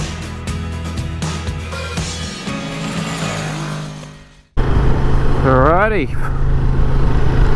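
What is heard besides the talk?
Honda Transalp motorcycle engine riding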